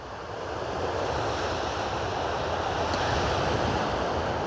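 Waves wash onto a tiny beach at Vigdel, hidden between two hills on a cloudy day, a steady soft roar of surf mixed with wind noise, distant and unbroken.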